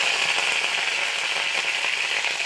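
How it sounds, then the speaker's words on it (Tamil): Mustard seeds spluttering and popping in hot oil in a home kitchen, as the base for a Tamil bitter gourd fry, a dense, steady crackle and hiss with no voices. "கடுகு நல்லா வெடிச்சிருச்சு"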